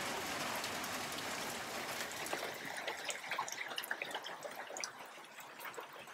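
Steady rain patters on a car parked outdoors during bodywork repairs, a dense hiss of drops that fades a little toward the end, with no one speaking.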